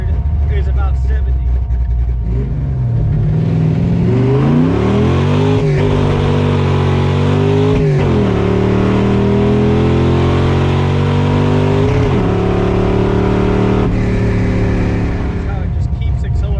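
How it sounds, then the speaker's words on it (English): A C3 Corvette's engine roars loudly from inside the cabin as it accelerates hard, revs rising steadily through the gears with short dips at each shift, while people talk over it. "it just keeps accelerating all the way up"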